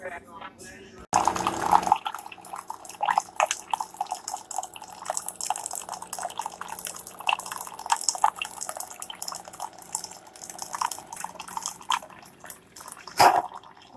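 A Keurig Classic coffee maker runs hot water during its first setup, with intermittent splashing and trickling drips sounding close by and a brief burst of louder noise near the start.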